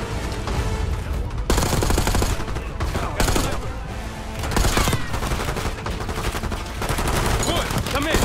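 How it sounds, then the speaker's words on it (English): Dense gunfire in Call of Duty Black Ops 6, loud sustained automatic bursts and rattling volleys with brief gaps, close and heavy, broken by sharp cuts between stretches of fire. "Give us some cover fire."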